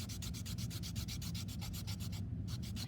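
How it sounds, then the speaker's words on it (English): A graphite-stained paper blending stump is rubbed back and forth on sandpaper in fast, even strokes, a close, steady rasping scrape with a brief pause near the end. "just rub it on the sandpaper until you notice that the black of the graphite stops coming off."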